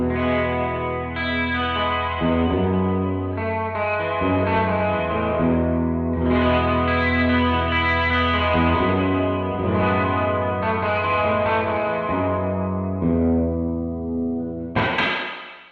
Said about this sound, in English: my sweet spot for the reverb is blend about 10 and time around 1 or 2